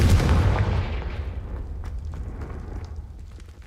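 A Confringo fire-spell blast in Hogwarts Legacy lands as one loud, deep boom at the start, then rolls away in a long rumbling decay with faint crackles trailing off.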